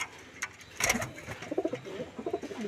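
Soft cooing of a black female pigeon with her mate, a few low throaty murmurs heard faintly against a quiet background with a brief rustle near the start.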